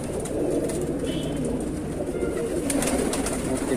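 Lakhori pigeons coo in a steady, low, throaty murmur that runs continuously at close range, with several birds overlapping and no voices over them.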